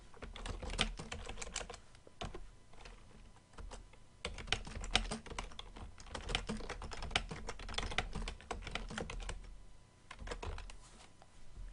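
A quick note is typed on a computer keyboard, giving rapid bursts of light key clicks with short pauses between words and phrases, close and quiet, with no talking.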